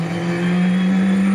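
A rally car engine holding a loud, steady note, a constant droning tone with no breaks, close and alone during a live rally stage broadcast.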